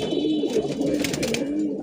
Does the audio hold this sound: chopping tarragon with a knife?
no